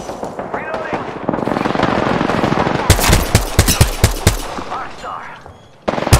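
Rapid automatic gunfire from a video game firefight, bursts of loud close shots cracking in quick succession amid sustained rattle, with a player talking over the action.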